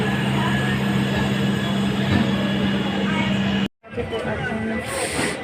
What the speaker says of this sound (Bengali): সাইড দিয়ে দেখি না ট্রেনটা যাচ্ছে তাই ভাবলাম তোমাদেরকেও দেখাই